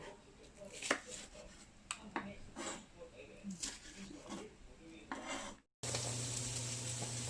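Mushrooms and green onion stir-fried in a pan during holiday food preparation in a home kitchen, giving close clattering stirs and soft sizzling that swell and fade, with a steadier loud sizzle near the end.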